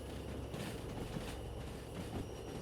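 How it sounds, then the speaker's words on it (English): A freight train carrying coal and ore rolls over track junctions on a triangle in the video game Derail Valley, giving a faint, steady rumble with soft clatter throughout. "I have to basically guess when the whole train has gone past."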